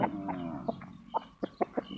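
A Burmese fighting cock clucks in a string of short, close, separate calls, several bursts spaced irregularly over about two seconds with no talk.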